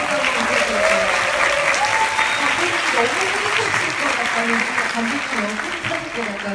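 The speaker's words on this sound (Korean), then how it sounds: "여러분 뜨거운 박수 한번 부탁드릴게요." A film festival audience at the Busan International Film Festival claps warmly during a stage greeting for an animated film screening, a dense, continuous wash of applause with voices and cheers mixed in underneath.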